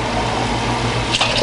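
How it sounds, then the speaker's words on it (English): Hot water pouring steadily into glass jars, a continuous close rushing fill with a slight splash toward the end, no voices. "I'm going to just fill them up with hot water over here."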